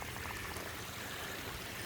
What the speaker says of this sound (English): Water comes out a little more streamy.